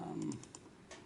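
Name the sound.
computer keyboard typing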